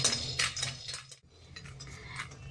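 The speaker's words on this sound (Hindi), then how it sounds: "मैं इस पैन में ये 2 टेबल स्पून के करीब सिंगदाने इसे डाल के और हल्का सा रोस्ट कर ले रही हूँ" Peanuts being dry roasted in a pan, giving light rattling and clinking of the nuts and a utensil against the metal, faint and irregular, with a brief lull partway through.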